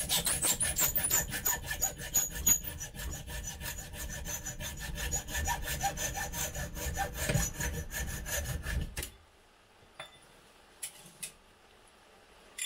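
Hand saw cutting through aluminium, a fast steady rasping back-and-forth close up for about nine seconds, then stopping abruptly, with only a few faint knocks afterwards.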